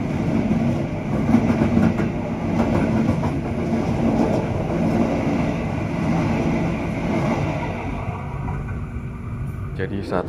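A passing train, the Argo Lawu, rumbles steadily with wheel clatter for about ten seconds, heard from aboard or beside the line, with a voice speaking over it.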